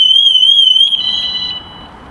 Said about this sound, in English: I'll test this with the panic button. That activates all the alarms on the van.